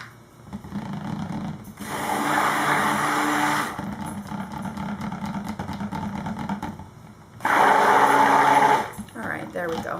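A stick blender mixes cold process soap batter tinted bright blue and scented with cucumber mint, running in two loud whirring bursts, a longer one early and a shorter one near the end, with quiet handling sounds between.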